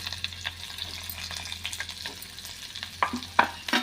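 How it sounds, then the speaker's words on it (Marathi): Brinjal sautéing in oil with turmeric and coriander, a steady crackling sizzle with scraping stirs, ending in several sharper clinks of a spoon against the pan. "आणि परतून घेऊया तेलावरती वांगी छानपैकी परतली गेली आहेत"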